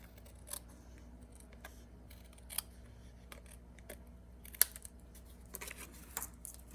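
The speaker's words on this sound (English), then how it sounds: "Where's my scissors that are for paper?" Paper scissors trimming paper while making stamped crafts, producing sparse, quiet snips and clicks at irregular intervals over a soft, steady room hiss with no talking.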